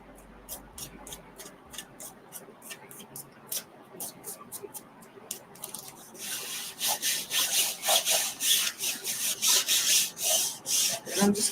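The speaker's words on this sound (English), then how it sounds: "And I'm just going to kind of burnish my transfer down." A craft transfer is burnished down by hand onto a surface: a short run of dry scraping strokes, then from about six seconds a louder, steady rasping rub that dominates to the end.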